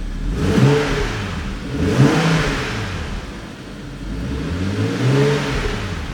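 A BMW M235i engine revs three times in close succession with its exhaust flaps open after cold start, each rev rising and falling with a throaty exhaust note, no voices.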